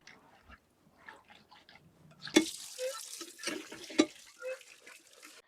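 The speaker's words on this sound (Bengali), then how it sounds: "এবার মাছগুনা ঘষে ধুই নিছে" Chang fish being rubbed and rinsed by hand in water: irregular splashes and sloshing with a couple of sharp clatters, close and moderately loud.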